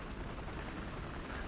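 Helicopter rotor and engine drone in the Battlefield Hardline video game, a steady low, broadband whir heard faint but constant with no talk.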